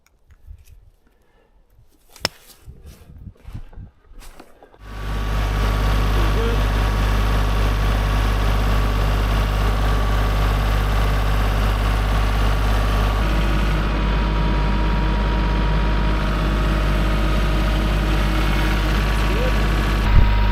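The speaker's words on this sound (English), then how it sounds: "Back to the tractor." A tractor engine idles steadily and close by for about fifteen seconds, a deep, constant low rumble that kicks in after a few seconds of quiet handling noises, holding an even drone to the end.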